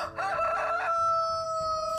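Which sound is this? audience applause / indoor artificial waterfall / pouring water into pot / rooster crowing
rooster crowing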